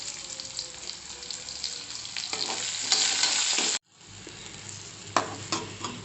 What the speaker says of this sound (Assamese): এতিয়া দিম পিঁয়াজখিনি, কাটি থোৱা পিঁয়াজখিনি দি দিলোঁ।